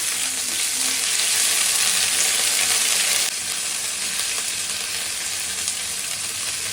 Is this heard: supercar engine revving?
no